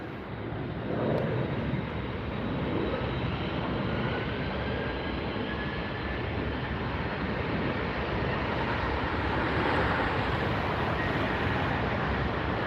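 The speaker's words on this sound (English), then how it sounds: "There's a JetBlue taking off from the south side." A JetBlue airliner takes off from the south side of LAX. Its engines make a loud, steady roar that fills the whole stretch without a break.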